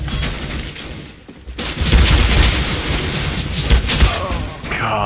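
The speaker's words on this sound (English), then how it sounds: "Shooting you with that AK?" Rapid AK rifle gunfire in the video game CS-GO, sustained loud bursts of shots with a dense, crackling texture, steady throughout with brief dips between volleys.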